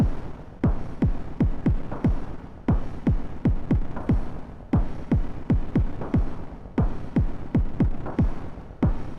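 EarthQuaker Afterneath Eurorack reverb module under CV modulation, producing a steady, pulsing stream of repeated plucked tones smeared into a throbbing reverb wash with a regular rhythmic pattern, no voices.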